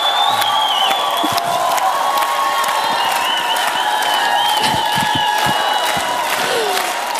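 A large studio audience at an X-Factor semifinal applauds and cheers continuously, with dense clapping, whoops and shouts filling the whole stretch at steady loudness.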